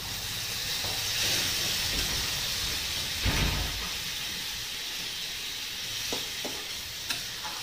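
Water is poured into a pan of sautéed lentils and drumsticks, setting off a loud hissing sizzle with a burst of steam that settles into steady bubbling and a few faint clinks.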